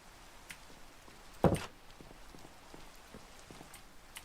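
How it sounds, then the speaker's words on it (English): Minecraft rain falls as a soft, steady patter on surfaces, faint and continuous, with one louder thud partway through and no voices. "Why is it got to be diagonal rain?"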